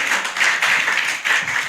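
A church congregation claps for the Lord during a midweek worship service, a short burst of brisk, steady applause from many hands close by.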